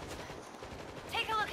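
Gunfire in the zombie shooter World War Z Aftermath, a short burst of shots with bright ringing tones near the end, heard over steady game noise while a player talks.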